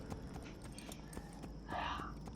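Horse hooves clip-clop steadily at a walking pace in Assassin's Creed Brotherhood, set against a constant background bed, with a short louder burst near the end.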